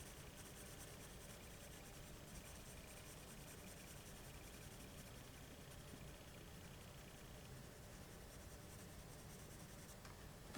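A Dollar Tree pencil shades layer upon layer on paper, giving a steady, soft, continuous scratching close to the page that holds even for about ten seconds.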